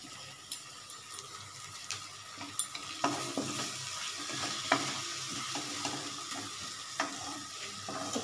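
Tomato and slit green chili masala for bhindi masala, frying and stirred in a pan: a soft sizzle broken by repeated scraping spoon strokes at an uneven, unhurried rhythm, close and fairly quiet.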